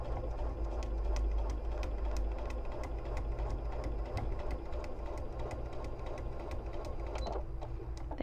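A sewing machine stitching a foundation paper pieced quilt block, a fast, even mechanical chatter with a steady motor hum running close and continuous, briefly slowing near the end, with no speech.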